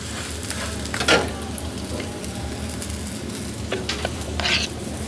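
An egg paratha fries in ghee on a pan with a steady, close crackling sizzle, broken by a few louder spits and pops.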